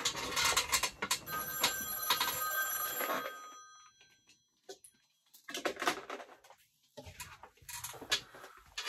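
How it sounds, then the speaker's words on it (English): A telephone rings during a church talk: loud, close bursts of trilling electronic ringing that repeat with short pauses between them. "my phone just rang"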